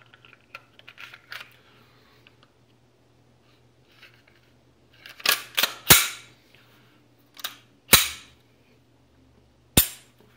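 Metal clicks and snaps from reassembling a .45 pistol: a few soft rattles early, then a cluster of sharp clacks and several crisp, isolated slide-and-frame snaps spaced a second or two apart, close and fairly loud, with no talking.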